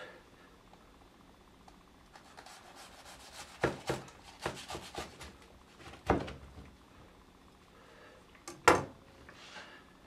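A knife saws through a Cuban sandwich of ham, pork, pickles and cheese on crusty bread, giving several close, crisp crunching cuts with short pauses between strokes and no talking.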